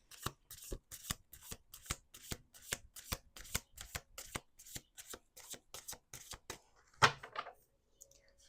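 A deck of tarot cards is shuffled on a table in quick repeated riffles, a crisp flurry of rapid flicks with short pauses, close and clear, ending with a louder slap.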